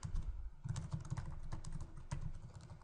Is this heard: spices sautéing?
no